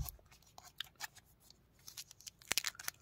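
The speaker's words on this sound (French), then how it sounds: "j'ouvre la petite protection que j'ai mis" Plastic protective cover being peeled and handled around a 4K Blu-ray steelbook, giving close, crisp rustles and crinkles with a sharp louder snap near the end.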